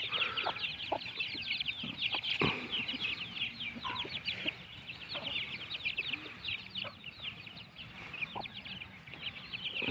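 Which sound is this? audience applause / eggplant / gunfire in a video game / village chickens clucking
village chickens clucking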